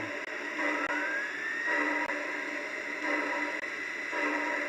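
A small motor whirs steadily with a high whine that rises in pitch, punctuated by faint clicks as the train runs along its track.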